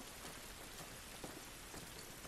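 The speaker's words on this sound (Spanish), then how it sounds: "Esta lluvia no nos va a ayudar." Steady rain falls throughout in The Last of Us, a dense even patter on surfaces with faint scattered drops, heard alone at a low level.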